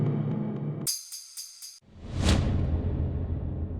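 A loud, sudden Afro House impact hit with a bright burst, then a deep booming swell that rises and lingers, preceded by a sharp high-pitched effect.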